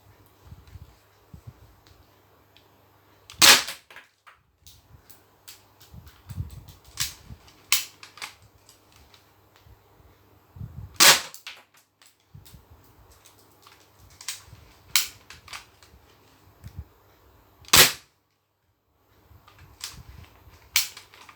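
A Thompson gun fires at a target in a series of loud, sharp single shots spaced seconds apart, with quieter mechanical clicks and handling between them.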